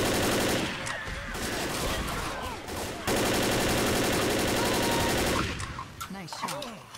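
Rapid automatic gunfire from the Left 4 Dead co-op Blood Harvest campaign, dense bursts of shots running almost continuously and loud, with a brief break midway and scattered quieter shots at the end, mixed with game noise and voices.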